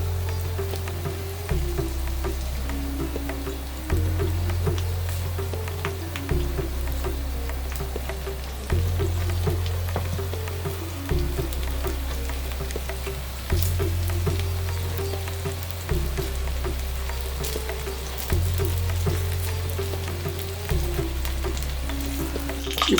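Kuzhi paniyaram, the Chettinad-style Rajapalayam version, sizzles and crackles in oil in a paniyaram pan, a dense close bubbling with a regular low thump pulsing underneath throughout.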